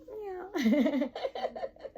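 A human voice imitating a cat, drawing out a wavering meow followed by a string of shorter mewing calls, close and expressive.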